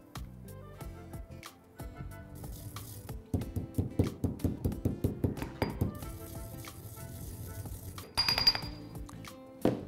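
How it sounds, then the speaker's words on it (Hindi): Roasted cumin seeds being lightly pounded, a run of quick rhythmic knocks and clinks, close and moderately loud, repeating for several seconds before a sharper metallic clink near the end. "भुने हुए जीरे को हम थोड़ा सा कूट लेंगे."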